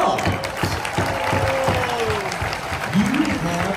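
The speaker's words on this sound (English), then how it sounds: "y'all give yourselves a big old round of applause" Dinner-show audience at Dolly Parton's Stampede in Pigeon Forge, Tennessee, giving a sustained, dense round of applause that fills the room from start to finish, with a voice carrying over the clapping.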